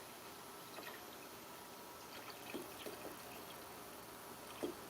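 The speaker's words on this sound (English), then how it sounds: "I'm sorry about the pouring noises" Water poured into a bucket while making mead, a steady low splashing wash with a few faint drips and gurgles throughout.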